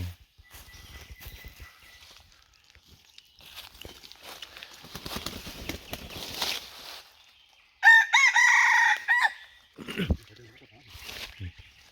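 A contest-winning rooster crows loudly once, a strained harmonic call standing out over quieter background chatter and scuffling, with another brief call shortly after.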